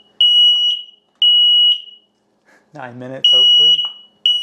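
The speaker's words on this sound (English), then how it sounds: "The smoke alarm did set this one off because that candle was blown out" An X-Sense smoke alarm, set off by a blown-out candle, sounds close and very loud in repeated piercing high beeps with short gaps, and a person speaks briefly during one pause.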